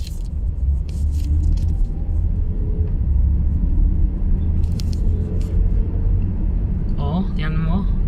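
Slow traffic on an expressway near an exit, a steady low rumble of car engines and tyres rolling past continuously, with a voice speaking near the end.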